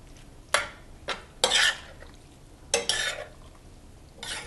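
Mushroom pasta with Asiago cheese is stirred in a pan, several separate scraping, squelching strokes of a utensil over a faint background, with short quiet gaps between them.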